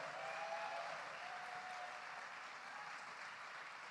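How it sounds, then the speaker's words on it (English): Dinner guests at a live-streamed celebration gala applaud a donation, a dense and even roar of clapping that holds steady for several seconds, with a faint tonal whine drifting underneath. "Folks, let's clap for him."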